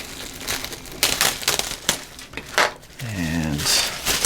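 A sealed plastic bag holding a Monogram F-84F model kit being cut open, bursts of crinkling and rustling plastic handled close up, with a brief voice-like sound near the end.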